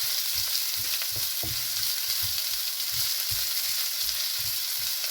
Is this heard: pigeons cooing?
no